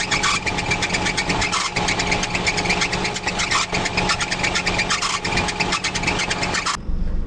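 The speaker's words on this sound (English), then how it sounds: "but that compressor noise is just so loud" A steady mechanical droning hum of a failing car air conditioning compressor running loudly and continuously, with no talking, cutting off abruptly at the end.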